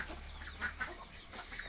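A pet hen kept at home with her chicks gives a few faint, soft clucks in quick succession, alone and distant.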